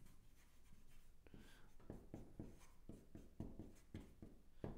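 Marker strokes squeak and scratch across a writing surface in short, uneven bursts, close and fairly faint, with no voice over them.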